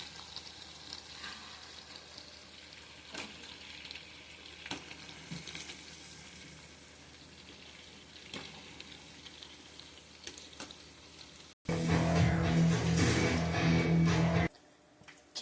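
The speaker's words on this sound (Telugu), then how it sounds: "మనమైతే చికెన్ ఇప్పుడు ఇలాగా గోల్డెన్ బ్రౌన్ ఫ్రై చేసుకోవాలి." Chicken frying in a pan until golden brown for chicken pachadi: steady quiet oil sizzle with occasional stirring clicks, then a much louder surge of hissing and crackling near the end, heard alone without talk.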